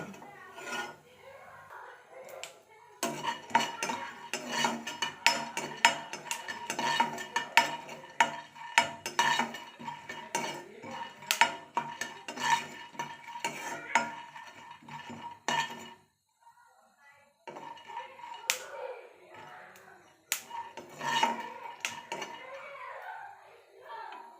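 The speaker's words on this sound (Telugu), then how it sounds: "కొంచెం రంగు వరి వచ్చే వరకు వేయించాలి" Sesame seeds and peanuts roasting in a pan while being stirred, making quick close scraping and rattling strokes with clinks from the spoon against the pan, broken by a short pause and then resumed.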